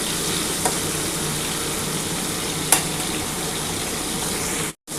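Bitter gourd frying in hot oil for Bengali shukto, a steady dense sizzle throughout with a couple of brief sharp pops and a short cutoff near the end.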